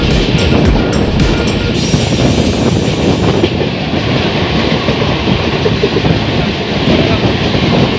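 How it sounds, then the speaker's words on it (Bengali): The 12988 Ajmer Sealdah Express runs at speed, a loud continuous rumble of wheels on track with rattling carriages, heard from on board, with brief high squeals early on. "আমাদের ট্রেন আসতে চলেছে বিধাননগর স্টেশন"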